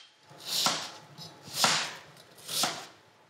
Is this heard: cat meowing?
no